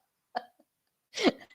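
Two short guttural burps from a woman, the second louder and longer, close and clear against near silence.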